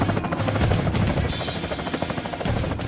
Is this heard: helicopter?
yes